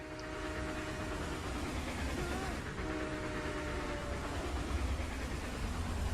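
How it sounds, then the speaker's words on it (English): An old black train approaches with a steady, broad rumble and faint whistle tones, holding a dense, constant roar throughout in an animated setting. "There's an old black train coming."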